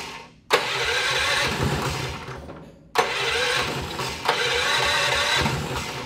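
Tillotson 212 small engine with electric start cranking on a weak battery, two long labored starter bursts separated by a short pause, loud and close, with no talking.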